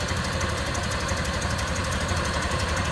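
Close, steady idle of a 1929 Ford Model A coupe's engine with a downdraft carburetor, a smooth continuous low rumble carrying a quick regular tick throughout.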